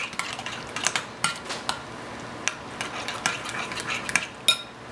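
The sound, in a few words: mixing roasted chicken ingredients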